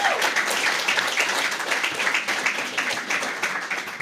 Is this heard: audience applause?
yes